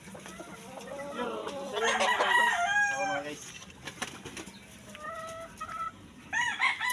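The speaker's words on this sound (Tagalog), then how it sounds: "Hybrid kini mo manok" Several hybrid chickens cluck loudly nearby and a rooster crows, with the calls overlapping; someone speaks briefly over the birds.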